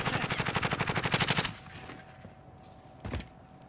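A rapid burst of automatic fire from a Call of Duty Modern Warfare match, a close rhythmic rattle lasting about a second and a half, followed by quiet background and one more distant shot.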